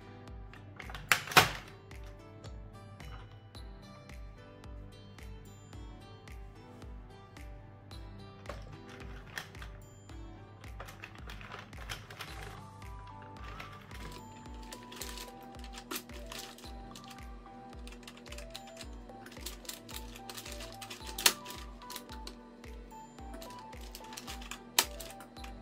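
An AddiExpress circular knitting machine is cranked by hand, giving a steady run of rapid mechanical clicks and clacks that shift slightly in pitch partway through, continuous and close.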